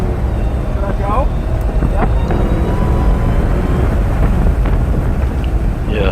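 A car engine roars and rises in pitch on a race track, a loud, steady rumble mixed with heavy wind buffeting, and a voice talks over it.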